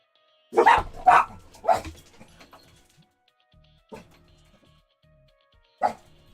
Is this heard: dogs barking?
yes